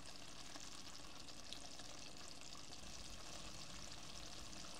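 Rohu fish head curry bubbles and sizzles steadily in an open pan over a raised flame, a continuous close, moderately loud frying hiss with no talking.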